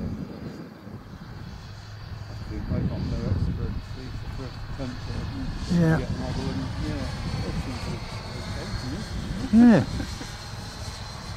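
A HobbyKing Vampire electric model jet running on a six-cell battery whines steadily as it flies overhead at an outdoor field, moderately loud, while men chat over it throughout.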